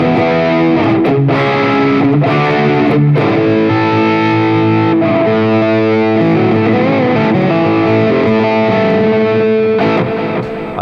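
A 1984 Gibson 335 electric guitar played through heavy distortion, with loud, continuous overdriven chords and sustained notes ringing throughout and no talking.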